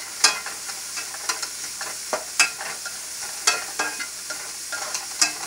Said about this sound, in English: now this is what we call sweating the onions